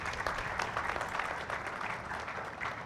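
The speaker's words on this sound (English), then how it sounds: "So a very big round of applause for Naredco BDA affiliation." An audience claps steadily and fairly close, a continuous dense patter of many hands sustained for the full few seconds without pause.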